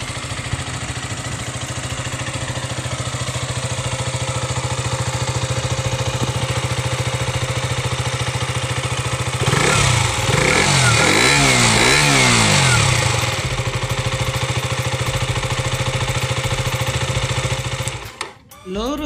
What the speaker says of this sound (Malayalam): നമുക്ക് ഇതിൻ്റെ എക്സോസ്റ്റ് നോട്ട് ഒന്ന് കേൾക്കാം.